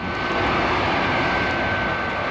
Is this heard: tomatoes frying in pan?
no